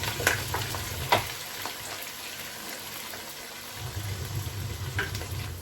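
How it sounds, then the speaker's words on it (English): Chopped onion hits heated red palm oil in a pot and fries with a steady, soft sizzle, broken by a few clinks and stirring scrapes; no talk is heard. "our oil is heated. I go in with my onion."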